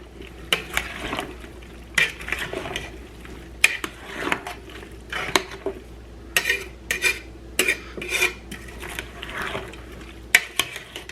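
Salsa verde being stirred in a pot on the stove, a spoon scraping and clinking against the metal in irregular bursts with quiet pauses between strokes, fairly close and with no talking.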